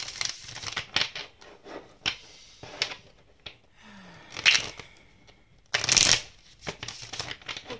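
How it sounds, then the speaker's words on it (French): Tarot cards being shuffled by hand: repeated crisp riffling bursts and papery flutters come in uneven spurts, close and fairly loud, with short pauses between passes. "Je vais continuer à battre les cartes."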